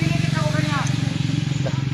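A motorcycle carrying three riders gives a steady, throbbing engine drone close by, running under continuous talking voices.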